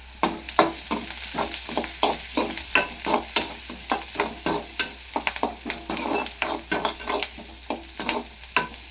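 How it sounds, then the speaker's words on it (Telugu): Curry leaves dropped into a pan of sizzling egg fry, giving steady frying hiss with a rapid series of stirring scrapes and spatula taps throughout, close and fairly loud, with no talking. "బాగా ఎర్రగా అయినాకైతే కరివేపాకు వేసి చూడండి, కొంచెం కరివేపాకు అయితే వేస్తున్నాను."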